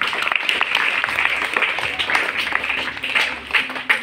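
An audience at a school Hindi Diwas celebration claps energetically, a dense wash of hand claps with scattered sharper individual claps, loud and close throughout the short stretch.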